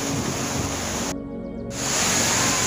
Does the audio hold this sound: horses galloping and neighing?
no